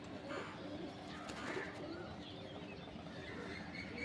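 Malwa pigeons kept for sale, cooing softly in a low steady murmur, with faint chirps and light shuffling under a constant background hum.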